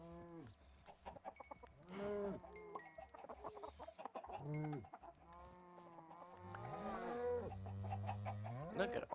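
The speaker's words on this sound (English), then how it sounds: "Now let's go and take care of these chickens." Chickens cluck and squawk in a Minecraft farm, several short blocky calls close up, with a cow mooing among them near the end.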